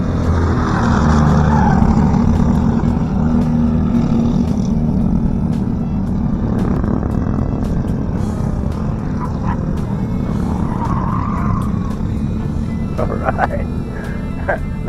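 A race car powers around an autocross course lined with cones, its engine a steady, loud roar that runs the whole way through while people talk over it.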